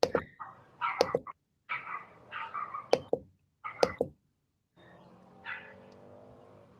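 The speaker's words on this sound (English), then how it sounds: "dog is barking" Dog barking in short bursts at moderate distance, several sharp yaps spread irregularly over a few seconds, with a quieter murmur of background noise between them.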